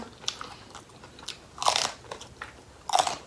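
Close, crisp crunches of pickled tiger shrimp in Japanese soy sauce being bitten and chewed, with two louder crunchy bites standing out against quieter chewing, no talking.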